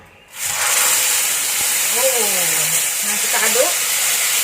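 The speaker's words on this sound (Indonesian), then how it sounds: "ini sudah panas, saya akan masukkan bumbu yang dihaluskan" Ground spice paste for beef gulai drops into hot oil and erupts into a loud, steady, close hiss of frying, with a voice faintly heard partway through.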